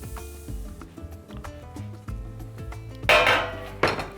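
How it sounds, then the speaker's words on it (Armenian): Metal oven baking tray clanks and rattles as it is moved in a home kitchen, a string of close, ringing knocks and clinks with a brighter scraping clatter near the end. "Ջեռոցի տապակը ետ ենք բերում"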